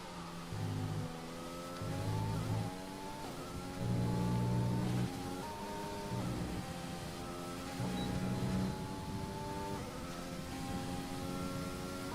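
Formula 1 car engine in the F1 2020 racing game at the Spanish circuit, downshifting through the gears into a corner: repeated stepped pitch drops with rising revs between, a loud, continuous high-pitched whine with no talk.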